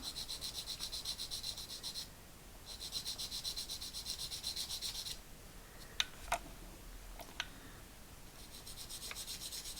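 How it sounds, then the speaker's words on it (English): Rhythmic scratchy rasping in repeated bursts as 400 grit sandpaper takes nubs off a curved plastic part of an Airfix 1/72 B-17G model kit, a short pause with a few soft clicks between, close and fairly quiet. "I'm using a 400 grit to start with, just to take these nubs down."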